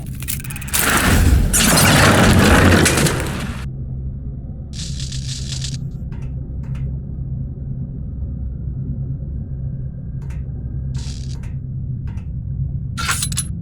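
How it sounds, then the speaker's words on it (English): A loud, roaring video game explosion rumbles for a few seconds, then fades into a low steady hum broken by short bursts of crackling debris. "The explosions didn't affect the room."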